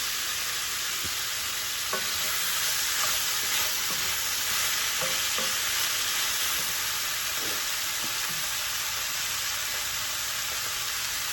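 Steak tortellini mixture frying in a skillet while being stirred: a steady, loud, dense sizzle throughout, with occasional soft scraping knocks of the utensil and no talk.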